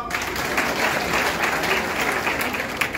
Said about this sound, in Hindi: तो ताली बजा के बताओ।